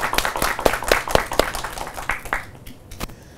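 An audience claps for actor Sunny Deol as he is welcomed as a guest, with scattered, fairly close hand claps that thin out and fade over the last second.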